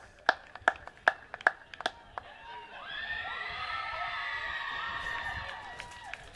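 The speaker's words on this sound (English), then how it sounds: "That's it, give them a big clap." At a rowing regatta finish for under-16 girls' single sculls, spectators give a run of sharp, separate claps that fade into a sustained swell of crowd cheering and shouting at moderate distance.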